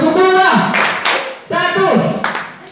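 Students in a classroom clapping game clap their hands in two bursts of sharp claps, with voices chanting and talking over the claps throughout.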